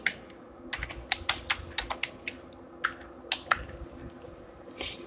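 Someone types on a computer keyboard in quick irregular bursts of crisp clicks, close and fairly quiet, with short pauses between runs of keystrokes.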